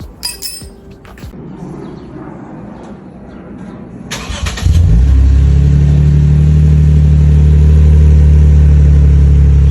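Rattling and clinking, then a Lexus IS 250 engine with an HKS axleback exhaust cranks and starts, settling into a loud, deep rumbling idle with a throaty exhaust drone.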